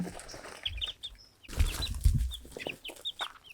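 Chicks scurry about with a mother hen, clucking and peeping in short bursts over scuffling and brief flaps of wings, close by and moderately loud.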